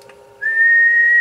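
Someone whistles into a radio microphone to test a small two-tube 10-meter linear amplifier: one clean, sustained whistle that is loud and close, lasting under a second after a brief quiet start.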